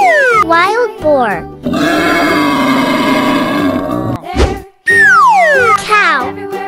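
A wild boar gives a long, loud grunting roar in the middle, set among bright musical tones and children's-cartoon sound effects.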